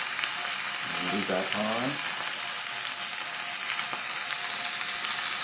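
Scallops sear in a hot pan with a loud, constant hiss and sizzle that runs throughout, while a voice speaks briefly over it near the start.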